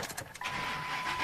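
A 2006 truck's engine starting, a brief cranking chatter followed by a steady idle hum, close and moderately loud.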